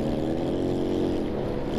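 Continuous exhaust drone from a Yamaha NMAX scooter being ridden at speed at night, a steady, fairly loud engine tone with no talk.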